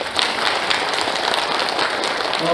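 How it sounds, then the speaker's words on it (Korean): Applause at the founding convention of the national association of Yeosu–Suncheon October 19 uprising bereaved families, offered for members of parliament: a thick, even wash of crowd clapping, loud and continuous throughout. "다시 한번 우리 국회의원님들 또 여기 계신 분들 위해서 박수 한번 부탁드리겠습니다"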